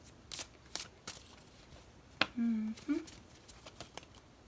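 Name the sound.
shuffling tarot cards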